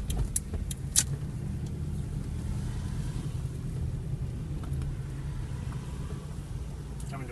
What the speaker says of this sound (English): Now we're pulling in and actually parking.